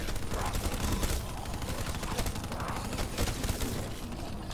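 Death Machine minigun from Black Ops 3 Zombies on the Nacht der Untoten map, a dense continuous stream of rapid gunfire with steady loudness for several seconds, heard close and unbroken.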